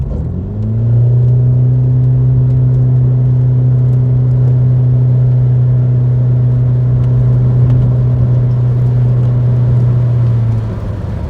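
A Rover Tomcat coupe under full throttle, its engine holding one loud, steady droning note from inside the cabin for about ten seconds with almost no change in pitch, and no talking.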